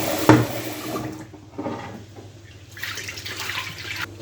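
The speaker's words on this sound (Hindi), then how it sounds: "तब तक मैं चावल धो लूँगी" Water splashes and swishes in a bowl in a few bursts, with rice grains rubbed and rinsed by hand, close by and moderately loud.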